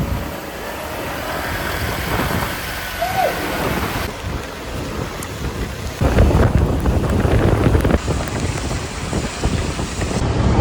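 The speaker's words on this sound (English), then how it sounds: "strong rain started." Strong rain falls at Kata beach in Phuket, a dense outdoor hiss mixed with gusty wind buffeting the microphone, growing louder and rougher partway through.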